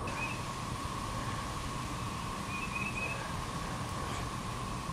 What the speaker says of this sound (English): The sounds you hear are only made by the male cicadas to attract a mate.